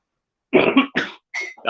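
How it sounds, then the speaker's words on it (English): A man's harsh smoker's cough, two or three hacking bursts with a throat-clearing rasp, loud and close with brief silences between. "That's a smoker's cough."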